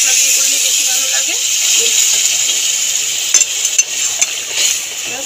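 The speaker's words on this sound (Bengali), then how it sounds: "এবার অল্প করে জল দিয়ে দেবো" Water splashes into a pan of lightly spiced ridge gourd and potato, setting off a loud, steady sizzling hiss that keeps going with a few sharper crackles and pops toward the end.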